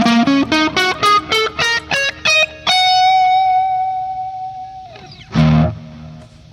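Electric guitar runs up a minor pentatonic scale with an added flat fifth, played with distortion and effects: about a dozen quick, evenly picked notes, then a long sustained final note that rings out before a last loud strummed chord.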